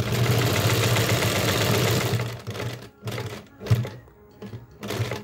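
A Janome sewing machine stitches a buttonhole, a fast mechanical whirring run for about two seconds, then stopping and restarting in short bursts, close and fairly quiet.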